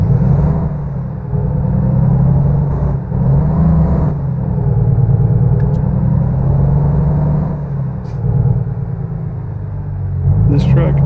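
A Volvo VNL semi truck in American Truck Simulator rumbles along with a steady low engine drone and some revving as it gets underway, while someone talks over it throughout.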